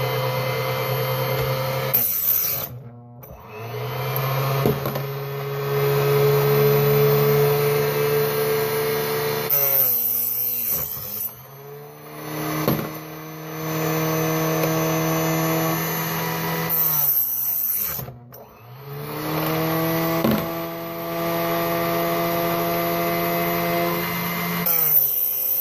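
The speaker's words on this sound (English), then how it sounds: "We're got a new handy little tool here, the mini chop saw. I figured I'd try it out with the pre-trimming the 270 brass" A small mini chop saw whines as it pre-trims 270 brass cartridge cases into 7mm Valkyrie brass, in repeated cuts of several seconds each, separated by short pauses and clicks; no speech.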